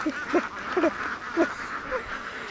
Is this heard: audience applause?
no